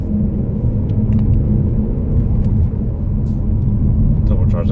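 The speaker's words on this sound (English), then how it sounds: "So if I put the foot down and accelerate to 30," A 2019 Vauxhall Insignia Grand Sport's 1.5-litre turbocharged petrol engine with manual gearbox accelerating, a steady loud low rumble with a faint whine up front, heard from inside the cabin under a talking voice.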